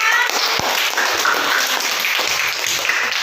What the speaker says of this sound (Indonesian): Oke, tepuk tangan dulu untuk kita semuanya.